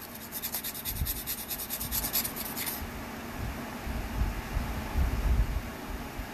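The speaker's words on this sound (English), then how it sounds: "I can rub this like I was doing. And I'm going pretty fast over the sandpaper." Fast rasping rub of a flex blade tip scraped back and forth over sandpaper during a tip repair, a steady close scratchy texture lasting the whole stretch, strongest in the first few seconds.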